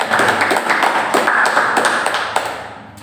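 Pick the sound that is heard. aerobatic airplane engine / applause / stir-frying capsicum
applause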